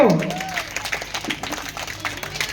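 An audience at a celebration for differently abled people claps in welcome for guests and local journalists, with scattered applause following a brief spoken voice at the start.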